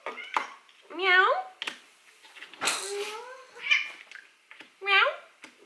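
A voice imitating a cat's meow, drawn-out sing-song meows repeated several times close up, with short bits of talk between them.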